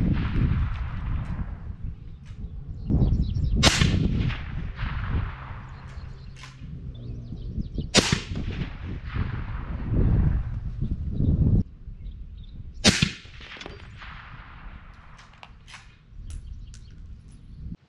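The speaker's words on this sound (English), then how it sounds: "I'm gonna take more shots and finish out this group to make sure the rifle is shooting the way I expect it to be shooting." Three loud, sharp rifle shots at an outdoor range while a riflescope is sighted in, spaced several seconds apart, each followed by a ringing decay over a steady background.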